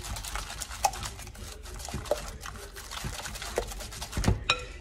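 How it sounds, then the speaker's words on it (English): Eggs being whisked into banana bread batter in a bowl: a steady run of light, quick scraping clicks with a few sharper knocks, close by and fairly quiet. "Finish whisking that here"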